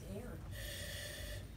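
A firefighter draws a single faint, hissing breath through a self-contained breathing apparatus, an air-supplied inhalation heard close but quiet against steady background noise.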